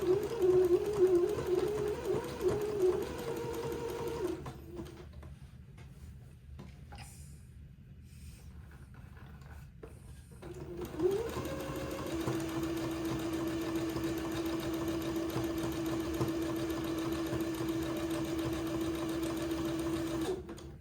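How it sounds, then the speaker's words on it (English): A sewing machine zigzag stitching runs steadily, stops for several seconds, then starts again and hums along at an even, close-up pace. "Now I have reset my sewing machine for zigzag"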